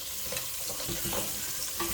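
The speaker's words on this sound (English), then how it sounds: "Just going to mix this a bit." Mangoes get stirred in a hot pan as they cook, a continuous scraping and sizzling texture that stays steady and close for the whole stretch, with no voices.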